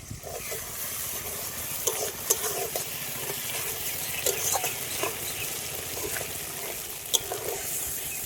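Mustard paste frying in a pan for a mustard fish curry hisses in a continuous close sizzle after water is added, with scattered crackles and pops throughout.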